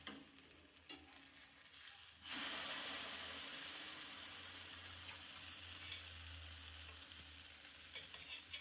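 A millet flour pancake fries in oil in a pan, quiet at first, then a sudden loud, steady sizzle breaks out and continues evenly, close and without talk.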